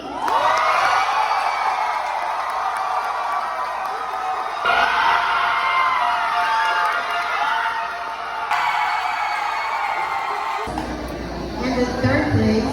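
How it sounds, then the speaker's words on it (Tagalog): A large crowd at a university judging event cheers, whoops and shouts loudly for the crowd choice award, with sustained roaring and yelling swelling in several waves throughout. "Dito naman, ang palakasan ng hiyawan, ang crowd choice."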